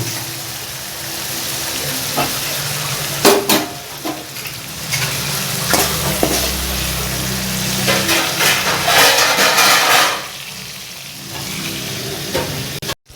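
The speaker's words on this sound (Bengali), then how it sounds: "গ্যাসের আঁচটা লো ফ্লেমে করে দিচ্ছি। চিংড়ি মাছগুলো আমি বেশি ভাজবো না, এবার নামিয়ে নেব।" Prawns fry in oil in a pan over a low flame, giving a steady close sizzle broken by stirring clatter and a few sharp spoon knocks, ending with a softer hiss.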